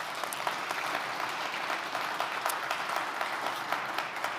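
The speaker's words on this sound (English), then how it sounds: "Let's give them a round of applause." An audience applauds a title sponsor at a community event, a dense, sustained patter of many hands clapping at moderate volume throughout, with only a few sharper individual claps standing out.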